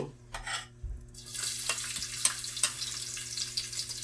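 Garlic sizzles and sputters in a hot pan as it is sautéed for a shrimp odong noodle dish, a steady close frying hiss broken by a few sharper crackles and stirring scrapes, with no talk.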